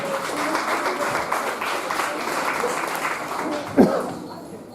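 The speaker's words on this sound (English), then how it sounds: "Let's give our judges a round of applause" An audience at a vegan chef cook-off championship applauds the judges, with steady, moderately dense clapping mixed with voices and a sharp vocal burst near the end.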